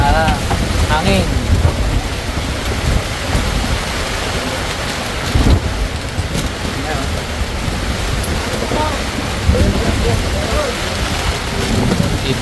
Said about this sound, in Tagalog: bumuhos ang malakas na ulan tsaka hangin